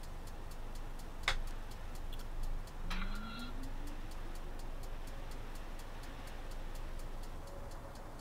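Inside the cockpit of an Epic E1000 turboprop in X-Plane 11, a faint, steady, rapid ticking repeats over a low engine hum, with a brief rising whine partway through.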